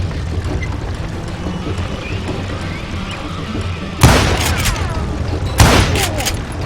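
Two sharp, loud gunshot bursts crack over a rumbling ambient game soundscape in Call of Juarez: Gunslinger, the second arriving about a second and a half after the first.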